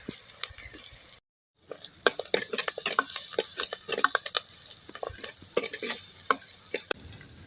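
Mustard seeds, fenugreek, onion and curry leaves sizzle loudly in hot oil for a village-style vadai kuzhambu. The crackling and stirring go quiet for a brief moment after the first second, then resume, busy and continuous.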